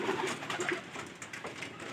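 A sick carrier pigeon coos close by with soft, low, repeated throaty calls in a steady rhythm, heard on its own.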